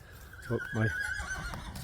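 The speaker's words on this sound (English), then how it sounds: "the horses are all there" A horse gives a brief, low whinny nearby, a couple of breathy pulses over quiet outdoor background.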